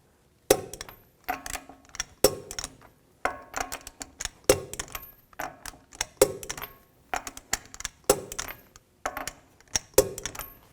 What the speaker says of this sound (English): Now we're going to torque these wheels to 100 foot-pounds in a star pattern.